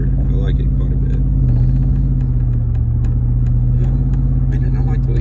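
A truck with a 6L80 transmission and a torque converter clutch drives along while braking. A steady engine rumble and hum runs close and loud throughout, with road noise.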